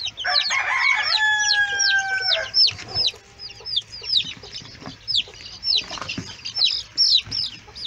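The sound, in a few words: chickens clucking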